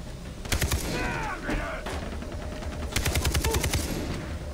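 Gunfire in the Far Cry 3 video game: two rapid bursts of automatic shots crackling over a busy ambient bed, separated by a short lull.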